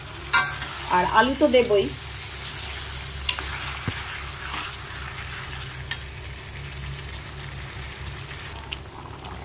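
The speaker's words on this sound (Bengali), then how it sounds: "মাটনটাকে ভালো করে কষিয়ে নিচ্ছি" Mutton sizzles and fries in a pan while being sautéed and stirred, a steady close crackle with occasional scraping, and someone speaks briefly at the start.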